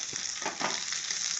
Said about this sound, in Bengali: দেখো, আমার আলু ভাজাও হচ্ছে।